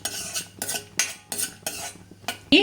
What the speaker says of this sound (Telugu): ఈ జీడిపప్పుల్ని కొంచెం బాగా వేయించుకుందాము